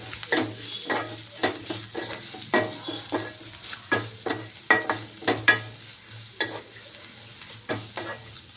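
Salt being stirred into a bottle gourd curry in a pan with turmeric: repeated scraping strokes of a spoon in an uneven rhythm over a steady low hum, close and clear, with no talking.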